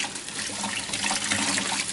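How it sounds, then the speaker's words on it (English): Rinse water pours steadily over miniatures sitting in a colander, a close, continuous hissing splash with no break and no voices. "I just run rinse water over the top of them here."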